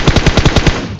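Rapid automatic gunfire in PUBG Mobile on the Miramar map, about seven loud, evenly spaced shots in a quick burst that stops abruptly, leaving a brief ringing tail.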